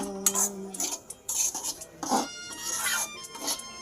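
A spoon stirs semolina roasting in a pan, giving quiet irregular metallic scrapes and clinks spread through the moment, with a brief faint voice at the start.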